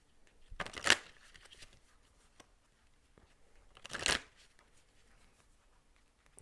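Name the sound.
shuffling oracle cards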